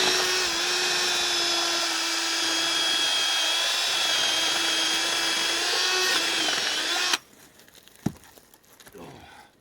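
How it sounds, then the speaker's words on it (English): Close, steady whine of a power drill boring a hole through the middle of a log for a fire log, running continuously for several seconds before stopping, followed by faint clicks and handling noises. "you've got to drill a hole in the middle of your log"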